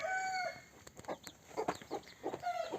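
Gurk Indian chickens in a coop give off a run of soft clucks and short crowing calls, a few close bird voices in quick uneven bursts over quiet background.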